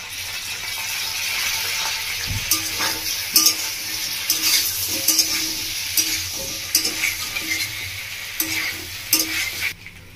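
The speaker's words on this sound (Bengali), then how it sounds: "আর নিয়েছি 2 চামচ মতো চিলি সস, আর দিয়ে দিচ্ছি 1 চামচ মতো ডার্ক সয়া সস।" A stir-fry tossed with chilli sauce, dark soy sauce and tomato sauce crackles in a pan under repeated scraping and clinking of a spatula, an uneven rhythm of strokes over a continuous sizzle, with no speech.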